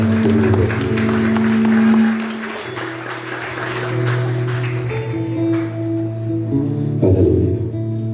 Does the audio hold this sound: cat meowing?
no